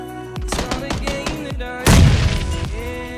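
Grenades go off in PUBG, a duo match of the battle royale shooter, as a series of sharp, close bangs. A much louder, heavier blast lands near the end and fades into a ringing tail.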